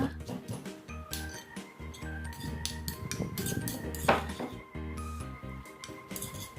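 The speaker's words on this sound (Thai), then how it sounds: "เริ่มโขลกพริกสด หอมแดง แล้วก็กระเทียมค่ะ" Fresh chilies, shallots and garlic pounded coarsely in a mortar for a Thai mushroom curry, giving a steady run of knocking thuds with clinking, over faint background music.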